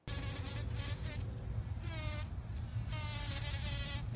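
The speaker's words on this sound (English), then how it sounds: "such as this carpenter bee on agara flower" Steady carpenter bee buzzing close by on a prairie flower, continuous throughout with slight shifts in pitch, over a low background hum.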